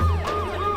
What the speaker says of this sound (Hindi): चलो, एम्बुलेंस आ गई है।